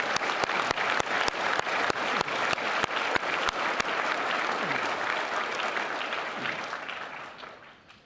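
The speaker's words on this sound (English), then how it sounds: "let's give them a big round of applause for everything they do to fight for the military" A big round of applause from the crowd at a military sendoff ceremony for an air defense artillery battalion, dense clapping punctuated by sharp regular claps, then fading out toward the end.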